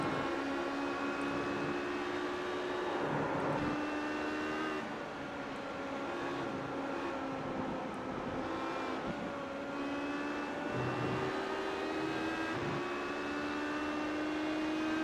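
Onboard race car engines at the Le Mans 6 Hours, running side by side through the Porsche Curves, give a loud, continuous high-pitched drone with shifting revs and brief gear changes, no voices heard.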